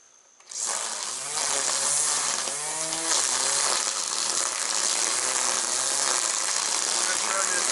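A weed whacker runs nearby outdoors, a loud, continuous buzzing whine that starts abruptly and holds steady with slight pitch wavers, while a voice talks briefly over it.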